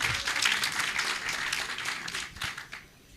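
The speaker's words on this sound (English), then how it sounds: "Let's give him a warm round of applause," Audience applause at a graduation ceremony for labour mobility students, a dense, sustained wash of clapping from a crowd that holds steady and then thins out near the end.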